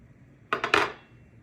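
A small spatula prying a Rice Krispie treat tree loose from a pan, giving a quick cluster of three short scraping clicks against the metal, close and brief, then quiet.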